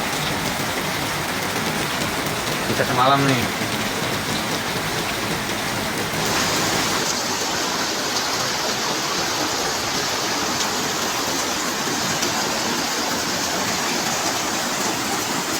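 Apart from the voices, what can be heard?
heavy rain during a flood in Sukabumi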